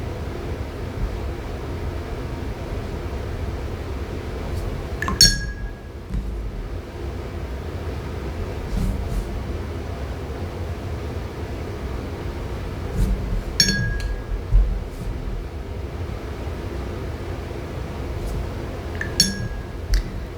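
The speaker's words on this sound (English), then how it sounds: "I'm just gonna rinse my brush and soften it up" Paintbrush rinsed in a glass water jar, with three distinct clear clinks of bristles tapping the glass rim spaced several seconds apart over quiet, faint swishing and room hiss.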